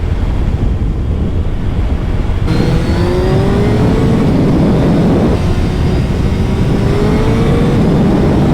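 A 2022 Suzuki Hayabusa motorcycle engine runs at full power on a test ride, a loud continuous roar that climbs in pitch through the gears with a shift partway through, heard up close over wind noise.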